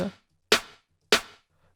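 A dry snare drum sample without its layer, two sharp isolated hits about half a second apart with short decays, clean and moderately loud with silence between.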